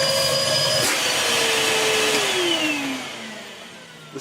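A refurbished 2015 Numatic Henry HVR200-12 vacuum cleaner motor running on its high setting, a loud steady whine with a falling pitch sweep midway, then the roar eases as it winds down near the end.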